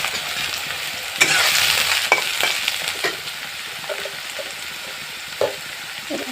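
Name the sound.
soybeans frying in oil in a pan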